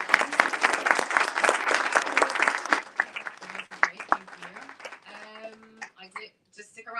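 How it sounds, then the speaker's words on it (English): Conference audience applauding after a marketing talk, dense clapping and cheering for about three seconds, then fading into scattered claps while voices start talking over the tail end. "Big round of applause for our."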